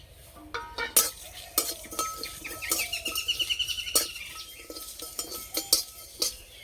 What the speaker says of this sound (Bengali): এখানে আমি নিয়েছি গোটা জিরে, মৌরি, ধনে, শুকনো লঙ্কা। এই কড়াইয়ের মধ্যে ভেজে নেব।